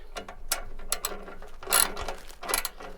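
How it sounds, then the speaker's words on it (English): A ratchet fitted with a 10mm socket tightens bolts on a Z1 motorcycle, giving quick, close clicking bursts in short irregular strokes. "You're going to need a 10mm socket"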